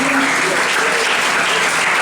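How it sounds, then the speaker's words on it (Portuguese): A church congregation claps in dense, steady applause, loud and close throughout the short stretch, with a few voices mixed into the crowd noise. "Aplauda o nome do Senhor Jesus."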